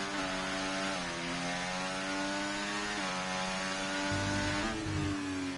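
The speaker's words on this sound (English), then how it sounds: "they changed the Ferrari engine, which sounds like them early V6s from the turbo era" A buzzing, high-revving Ferrari turbo V6 racing engine in a video game drones continuously, its pitch dipping and climbing through several gear shifts, harsh and close.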